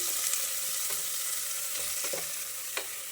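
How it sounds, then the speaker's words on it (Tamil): Steady oil sizzle as a small tomato fries in tempering oil for a Chettinad black chickpea curry, with occasional stirring clinks and scrapes, close and continuous, no voices. "இப்போ வந்து தாளிக்கிறதுக்கு ஒரு சின்ன சைஸ் தக்காளி போட்டிருக்கேன்"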